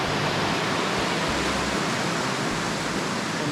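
Middle waterfall on the Rupin Pass trek, roaring close at hand as a steady, dense broadband rush of falling water that never lets up.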